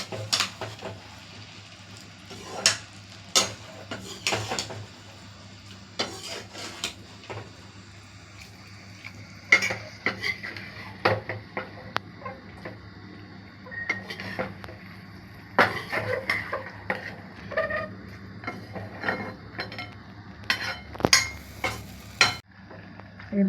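A spoon scrapes and clinks against a pan while spiced masala with cassava pieces is stirred. The scraping comes in irregular bursts over a quiet background, with faint sizzling between strokes.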